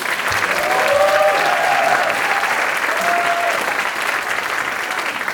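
Film premiere audience applauding a screening: sustained dense clapping fills the room for about five seconds, steady and fairly loud, with a few faint whoops and voices mixed into the crowd noise.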